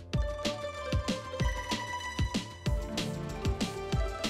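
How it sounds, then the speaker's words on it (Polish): A telephone plays a melodic ringtone close by, a bright, tuneful pattern of repeating notes with a rhythmic pulse that sounds clearly with no talk over it. "Ej, telefon."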